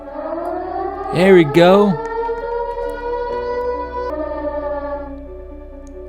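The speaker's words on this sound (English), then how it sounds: "The siren should go off." A civil-defense-style siren in a Roblox game holds a steady tone with a brief warbling dip, while someone speaks briefly over it.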